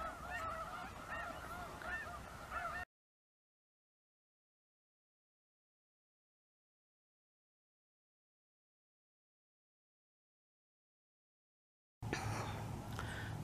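Geese honk loudly at a pond on the south side of the Salton Sea, a dense overlapping chorus of calls for a few seconds, then silence, then the honking resumes briefly.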